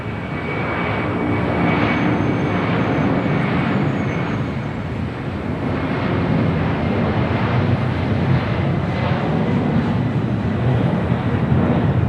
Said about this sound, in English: heading to SFO of the 747-400 ex-passenger plane, now cargo plane